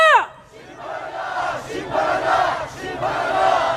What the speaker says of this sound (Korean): 마지막으로 구호 외치겠습니다.